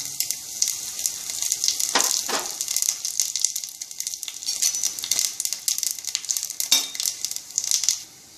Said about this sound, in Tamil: இப்போ எண்ணெய் காஞ்சிடுத்து நம்ம எடுத்து வச்சிருக்கிற மசாலாலாம் இந்த தாளிச்சிடலாம்.